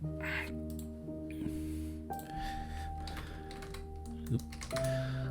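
Rapid clicking of keys being typed on a keyboard, with steady tonal music humming in the background.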